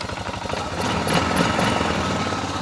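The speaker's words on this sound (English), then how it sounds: "Again, this was 500cc gasoline engine." A 500cc gasoline engine idles steadily nearby, a continuous low rumble with a slight rise in intensity midway, running on its own.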